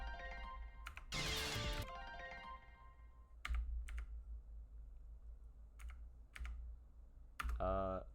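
Sparse, separate clicks of computer keys being pressed, a few isolated strokes at irregular gaps, interleaved with short bursts of electronic game music and chime-like tones while playing Touhou 18 on a computer.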